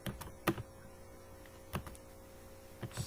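Faint, sparse keystrokes on a computer keyboard while writing C++ code, a few isolated clicks and a small cluster, quiet against a low background hum.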